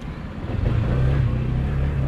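A car rumbles at low speed, its engine and chassis thumping as it rolls over a high speed bump, close and steady with no talk.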